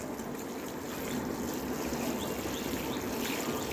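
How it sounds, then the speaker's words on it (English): Water pours onto fresh potting mix in a repotted houseplant, a steady, close trickling hiss that swells slightly and holds. "Obviously after putting the potting mixture again, you need to water."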